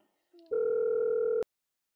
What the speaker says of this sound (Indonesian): dokter Ahmad nyambung bentar